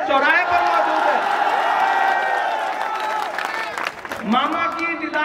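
A large crowd at a political rally at a crossroads in Burhanpur keeps up a dense, steady roar of applause and cheering for about five seconds, with voices shouting within it.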